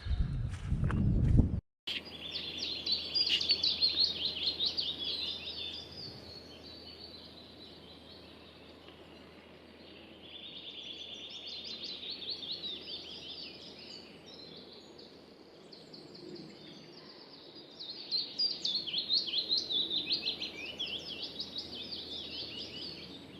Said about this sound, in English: The bird noise is fabulous today.